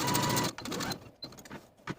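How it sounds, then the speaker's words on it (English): Home sewing machine running a long 5 mm basting stitch through fabric, a fast whirring burst up front that slows into a few softer, uneven stitches, close and alone. "I'm going to use the largest stitch on my machine, which is 5 millimeters"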